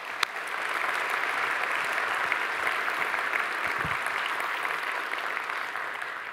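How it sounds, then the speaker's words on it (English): A church congregation claps for a speaker, a steady, dense round of applause holding evenly for several seconds. "Let's give Billy a big round of applause."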